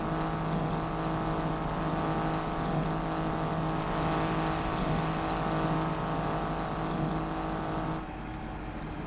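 A diesel truck in the BeamNG.drive driving game runs at a steady, loud drone with a low rumbling harmonic hum, holding fairly constant for about eight seconds before the level drops slightly near the end.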